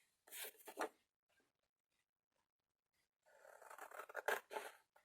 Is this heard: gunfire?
no